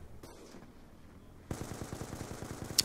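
SMG gunfire in a Call of Duty online match: after a quiet moment, a sudden rapid burst of automatic shots rattles on steadily for over a second, loud and close.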